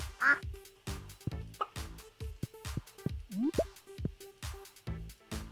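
Ducks in the Stardew Valley farming video game quack in short repeated bursts, several calls in quick succession, close and clear with small plopping blips between them.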